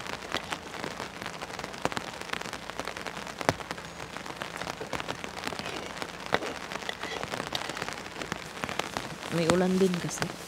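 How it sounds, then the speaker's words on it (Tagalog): Steady rain patters and drips on surfaces outdoors in cold, windy weather, a continuous close hiss with scattered louder droplets and a brief tonal sound near the end. "May ulan din kasi."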